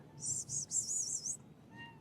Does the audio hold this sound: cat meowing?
yes